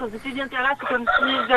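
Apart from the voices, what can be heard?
rooster crowing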